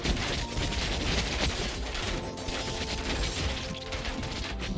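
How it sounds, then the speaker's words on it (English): Explosions and combat noise from the castle-defence video game Thronefall during a final boss wave, a dense, loud, continuous clatter of crashes and mechanical impacts with no talking. "Nice explosion."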